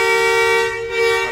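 A faulty bus horn on a Rosalia Indah bus blares continuously up close, stuck on, a single steady tone that dips briefly near the end before resuming.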